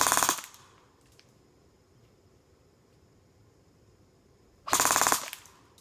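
An airsoft gun fires two short full-auto bursts in a rate of fire test, each a rapid, loud rattle of shots lasting under a second, separated by several seconds of quiet.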